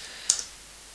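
A couple of quick, light key clicks on a computer keyboard while entering a command at a switch's command line, faint and close, with no talk.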